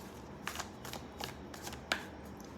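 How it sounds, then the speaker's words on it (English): Tarot cards are shuffled by hand in several quick riffling bursts with short pauses, close and fairly soft, with no talking. "Let's give one more shuffle."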